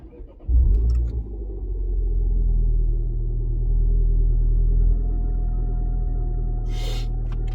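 A Citroen DS3 fitted with a performance induction kit cold-starts, a brief crank catching into a loud, steady low idle rumble that holds close and alone throughout.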